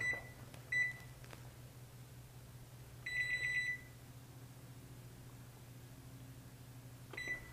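Short electronic beeps of a kitchen timer sound in a quiet room: a few brief chirps, then a longer tone in the middle, and another chirp at the end over a low hum.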